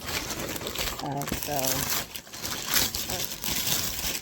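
Crinkling, rustling packaging and tape being pulled and torn from a heavily taped mailed gift package, close by, with brief speech mixed in.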